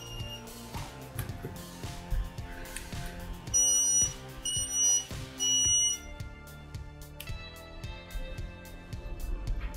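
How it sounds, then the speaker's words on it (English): An H2S T40 gas monitor sounds its alarm: a run of shrill electronic beeps in two clustered bursts mid-clip, over steady background tones and clatter. "So when we open this, there is an alarm."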